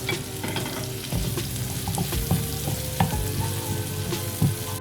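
Nigerian fried rice sizzles steadily in a hot pan while a spoon stirs and scrapes it in regular knocks, close and continuous without talk.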